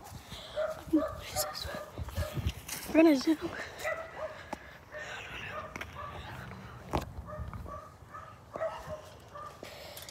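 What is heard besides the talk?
dogs in the backyard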